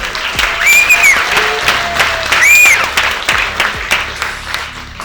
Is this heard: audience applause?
yes